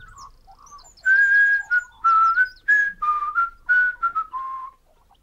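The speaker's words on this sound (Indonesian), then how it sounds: "Don sedang bekerja di kebun sambil bersiul." A man whistles a cheerful tune while working in a garden, a clear run of bright sustained and sliding notes close by, with no talking.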